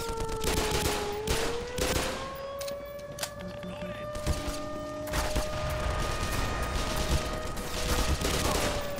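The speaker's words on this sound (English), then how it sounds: "what is shooting down their aircraft? Also, what is shooting at me?" Gunfire in the video game Black Mesa, with bursts of shots and booms scattered across a steady background drone and whine, some close and sharp, others more distant, continuing throughout.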